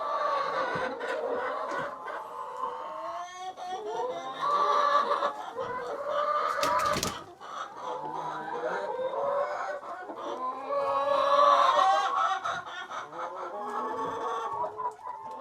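Chickens clucking inside a backyard coop at dusk on a winter evening, a steady overlapping chorus of clucks and murmurs from several hens, fairly close, with one brief loud rustle or thump midway.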